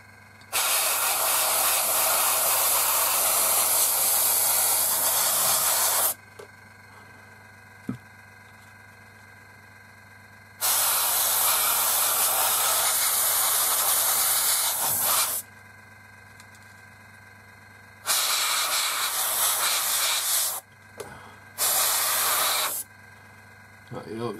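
Airbrush spraying paint onto a 1/72 scale North American Mustang plastic model, long steady hissing bursts of several seconds each separated by quiet pauses, close and loud, with a low hum underneath.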